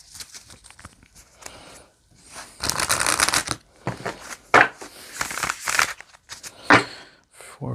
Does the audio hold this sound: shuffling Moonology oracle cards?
yes